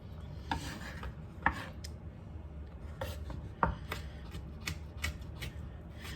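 A knife minces garlic on a cutting board with quick, irregular close taps and scraping strokes, some sharper chops standing out in a quiet kitchen, no talking.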